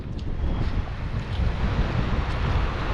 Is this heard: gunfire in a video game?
no